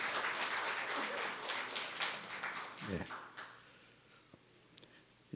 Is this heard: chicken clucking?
no